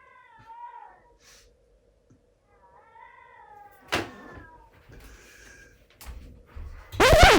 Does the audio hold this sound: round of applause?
no